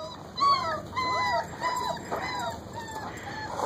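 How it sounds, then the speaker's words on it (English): German Shepherd puppies, 29 days old, out in a yard for the first time, whimper and yip in repeated high, wavering cries that sit close and fairly loud, overlapping one another with short gaps between. "The puppies are 29 days old and out in the yard for the first time today."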